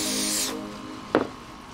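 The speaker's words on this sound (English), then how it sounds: "spray a little of the accelerator into the crack." CA glue accelerator sprayed from a shaken aerosol can into a crack in wood during a repair, a single short hiss at close range, followed by a brief tap.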